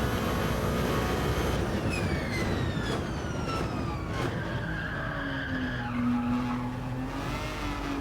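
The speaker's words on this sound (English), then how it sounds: "The tire squill is out of control in this game." Car tires squeal loudly and continuously in Gran Turismo 7, with long sliding pitch sweeps over a steady roar of racing engines.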